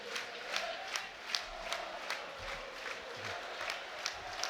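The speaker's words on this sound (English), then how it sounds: "Now it's Rathbone getting his name sung out." Stadium crowd at a Wrexham versus Charlton Athletic football match chanting player Rathbone's name in a steady rhythmic roar, with regular clap-like accents punctuating the distant mass of voices.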